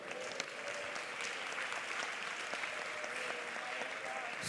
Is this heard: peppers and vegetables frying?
no